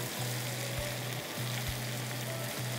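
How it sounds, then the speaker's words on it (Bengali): Onion, chilli and turmeric with dried chepa shutki fish frying in oil, a steady close sizzle with a low pulsing tone underneath and no talking. "এটা একটু বেশি পরিমাণ কষিয়ে নিলে স্বাদটা বেশি ভালো লাগে আর কি, তেলের উপর কষিয়ে নিলে"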